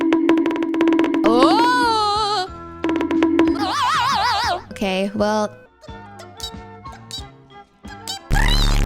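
Voice imitates a dying Togepi Pokémon with warbling, squeaky high-pitched wails and wobbling cries, broken by bursts of ordinary talk and a few sharp clicks, close and loud.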